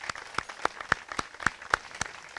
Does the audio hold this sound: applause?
yes